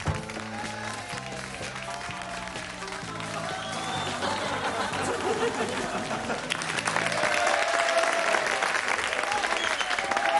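Audience applause at a television talent contest, a broad crowd clapping that builds and grows louder toward the end, with music and background voices underneath at first.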